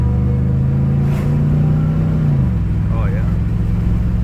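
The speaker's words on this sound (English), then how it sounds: "Wide open throttle upshift." A car with a TH200 automatic transmission accelerates at wide open throttle. The steady, loud engine drone falls in pitch midway through as the transmission upshifts, then keeps pulling.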